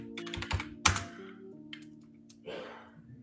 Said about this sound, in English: stop beating your keyboard like that